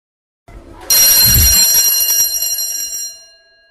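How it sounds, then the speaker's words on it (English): An electric bell rings loudly and steadily for about two seconds, then cuts off, with a brief thump just before it starts. "As the bell rang"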